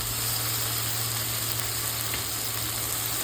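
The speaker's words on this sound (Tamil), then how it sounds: "ஒரு அஞ்சு நிமிஷம் இஞ்சி பூண்டு பேஸ்ட்டு நல்லா வதங்கட்டும்" Ginger garlic paste sautés in a pan, giving a loud, continuous and even sizzle that barely changes from start to finish.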